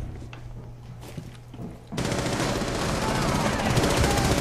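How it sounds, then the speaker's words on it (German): Sustained automatic gunfire erupts abruptly and keeps roaring loud and dense in the video game Rainbow Six Siege, following a quieter stretch with a few faint shots and a low hum. "und da fängt er an zu schießen"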